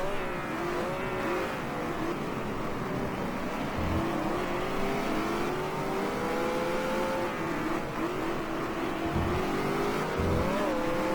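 A small Abarth racing car in GT Legends drones along with a strained engine whose pitch rises and sags repeatedly as it bogs down, a continuous, fairly loud tone with no voices over it.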